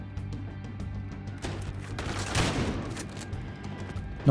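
Scattered gunshots in the video game Battlefield Hardline, with a loud shot near the middle and a sharp crack at the end over a steady low rumble of game ambience. No speech is heard.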